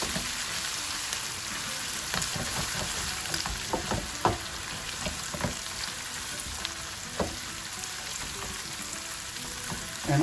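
Ginger garlic paste fries in a pan with a steady, close sizzle and crackle, with occasional sharp pops and a few stirring scrapes; no one speaks.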